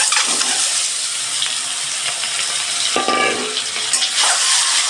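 An egg hits hot oil in a heated wok, setting off a steady loud sizzle and hiss with a brief sharper crackle partway through, and no one speaking.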